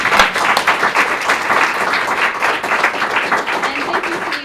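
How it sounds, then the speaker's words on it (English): An audience applauds panelists after a discussion at an Indigenous entrepreneurship event, giving a steady, full round of clapping that holds for several seconds with no voices on top. "We'll give the panelists a round of applause for their amazing insights"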